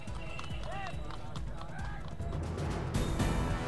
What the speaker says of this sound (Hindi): बड़ी संख्या में घोड़ा गाड़ियों ने लिया हिस्सा।